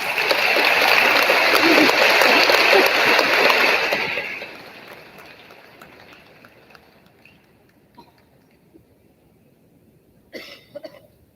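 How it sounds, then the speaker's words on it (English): A school audience at an awards ceremony bursts into dense, loud applause for an elementary school taking the stage; the clapping fades after about four seconds into a quiet room with a few scattered coughs and small noises. "Let's give them a big round of applause."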